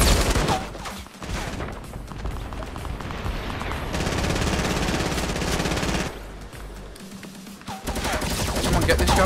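A light machine gun fires in Fortnite Battle Royale, long rattling bursts of rapid automatic shots with brief pauses between strings, loud and close, with faint game sounds underneath.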